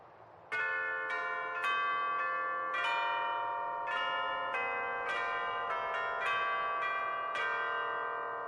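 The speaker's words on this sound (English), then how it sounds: "Shall we ring the bells?" Church bells rung for the Starlight Celebration in Final Fantasy XIV, a series of bright clanging strikes in an uneven peal, each ringing out and overlapping the next, loud and clear without talk.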